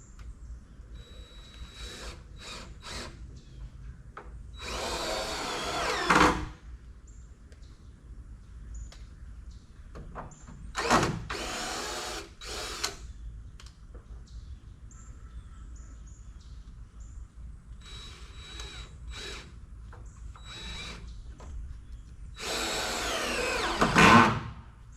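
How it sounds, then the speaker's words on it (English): A power drill drives screws while framing a barndominium window opening, with several short whirring bursts separated by pauses and faint workshop noise; the final burst runs a little longer and louder. "That screw didn't go in right. I gotta put a different one."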